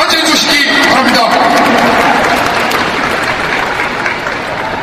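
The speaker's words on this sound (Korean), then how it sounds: "힘찬 박수로 맞이해 주시기 바랍니다." Applause fills a party leadership election hall as the next candidate is welcomed to the podium. The clapping is loud at first and fades slightly, with talk mixed in.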